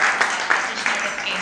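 An audience at a literary festival session applauds to welcome a guest, a brief spell of steady, fairly soft clapping from a crowd indoors.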